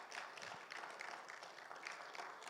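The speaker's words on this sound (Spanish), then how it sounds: "Denle un fuerte aplauso" Faint, distant applause from a congregation at a church Bible seminar, a soft continuous wash of many hands clapping with no voices on top.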